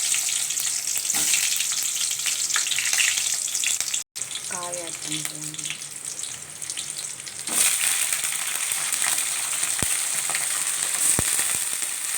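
Chana dal sizzles and fries in hot oil in a pan, a steady broadband crackle that runs throughout with a brief dropout, a short patch of faint background voice, and a few sharper clicks from stirring.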